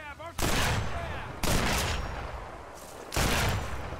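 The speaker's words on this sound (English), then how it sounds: "I can hear the gunshot, I can't see where the gunshot's coming from." Three loud gunshot bursts in Sniper Elite 4 ring out at roughly even intervals, each decaying into a long echoing tail.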